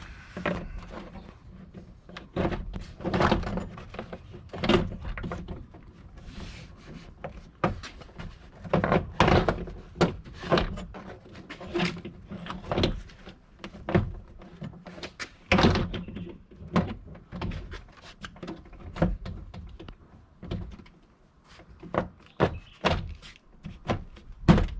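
Inner door panel being fitted onto a 1995 Chevy 2500 pickup driver door, a close run of irregular plastic and wood-like thunks, knocks and snaps as it is hooked on and pressed into place, with no talking.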